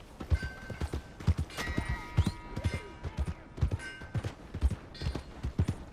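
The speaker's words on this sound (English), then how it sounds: "My horse!" Horse hooves clip-clop at a steady walking rhythm in the video game Red Dead Redemption 2, fairly close and clear, with game music tones above and occasional short voice sounds.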